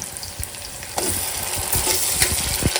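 Ground masala hits softened fried onions in a hot pan, setting off a louder steady sizzle after an initial thump, with a few low scraping stirs close by and no talking.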